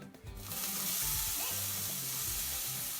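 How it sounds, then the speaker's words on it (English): Peppers and onions hit hot oil in a non-stick pan, a steady loud sizzle starting abruptly and holding with faint stirring clinks underneath. "I'm going to add my peppers and onions and cook those until they're softened"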